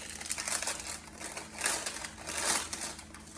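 A pack of buttery round Ritz crackers is squeezed by hand into crumbs, soft repeated crinkling and crunching of the plastic sleeve and crackers in close, quiet bursts.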